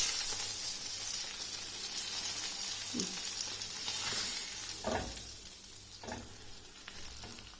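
Fish pieces fry on a hot tawa with a steady, close sizzle and crackle of oil, punctuated by a few sharper spits and bursts, with no talking.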